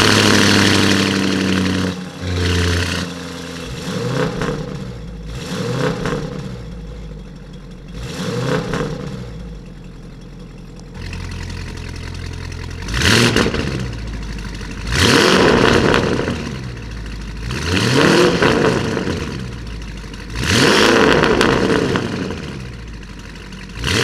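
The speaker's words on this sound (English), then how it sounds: "why don't we listen to the performance exhaust?" A Lamborghini Urus engine revs repeatedly through an open Novitec performance exhaust with flaps open, rising and falling in sharp bursts with rumbling idle between the blips, close up.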